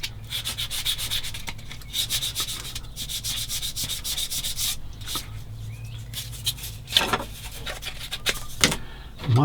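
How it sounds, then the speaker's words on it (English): A file smooths a part of a 1/35 scale Bronco plastic model submarine kit with rapid, close rasping strokes in quick bursts, with a few brief pauses and a louder scrape near the end. "Now I'm going to do some smoothing."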